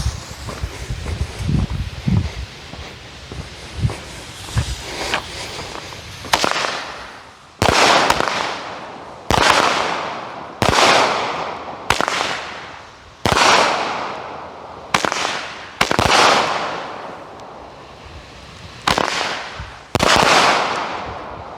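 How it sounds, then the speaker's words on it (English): A Legend Fireworks X Factor cake fires a series of about eleven loud, sharp blasts at fairly regular intervals, each booming and then decaying, after some quieter rustling at the start. "this is the X Factor by Legend Fireworks."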